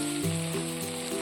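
Meat sizzles steadily in a pot over a wood fire in a village kitchen, a close, continuous frying crackle with soft stirring scrapes.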